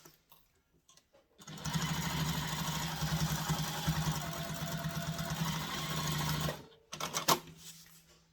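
A sewing machine stitches diaper bag fabric pieces at construction stitch length, running in one steady, fairly close burst of several seconds before stopping, with a few faint handling clicks afterward.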